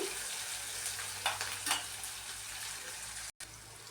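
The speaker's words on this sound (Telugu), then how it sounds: "ఈ ఉల్లిపాయ ముక్కల్ని మీడియం ఫ్లేమ్లోని ఒక టూ మినిట్స్ అయితే మగ్గించుకున్నాము" Onion pieces sautéing on a medium flame for a bottle gourd chutney give a steady, fairly quiet sizzle with a couple of brief stirring scrapes, heard close with no talking.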